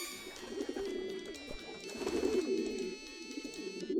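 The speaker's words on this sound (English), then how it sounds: "because this is the dumb pigeon" A pigeon in a video game coos in soft repeated throaty calls over steady game music, fairly close and moderately quiet.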